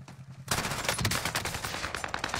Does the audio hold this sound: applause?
no